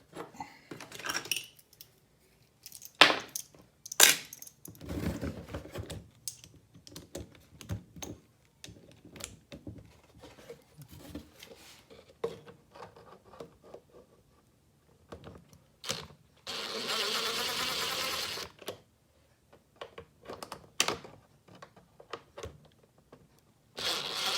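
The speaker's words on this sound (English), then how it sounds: "Now you can hear my screws falling in there." Small torx screws dropping and rattling inside an Audi A3 headlight housing during a headlight fault repair: close, scattered metallic clicks and ticks, with a brief scraping rush near the end.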